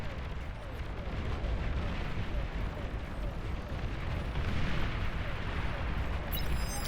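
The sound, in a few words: explosions in the video game Beyond All Reason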